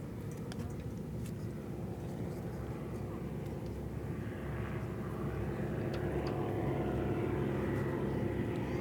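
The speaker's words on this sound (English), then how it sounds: "And trailing is the P-40." A P-40 propeller fighter plane passes overhead at a military anniversary ceremony, a steady broad engine drone that swells slightly and stays fairly distant and constant throughout.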